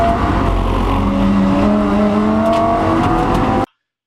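Race car engine roaring under strain with tire squeal as the car slides and catches at Watkins Glen, loud and continuous before cutting off abruptly.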